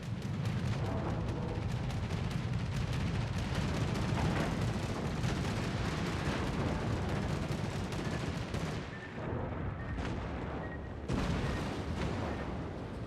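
Warship battle in a naval video game: continuous heavy naval gunfire and rapid anti-aircraft guns pound away together, loud and dense, with a brief lull near the end before the firing resumes.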